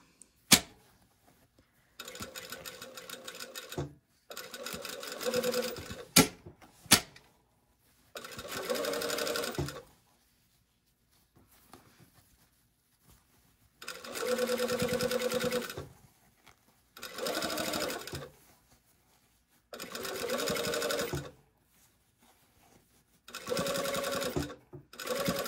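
A sewing machine stitches a sleeve seam on a V8772 garment. It runs in several separate bursts of fast, even needle clatter of a few seconds each, with quiet pauses between, heard up close.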